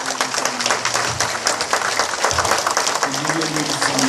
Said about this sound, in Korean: 박수로 한번 환영해 주세요.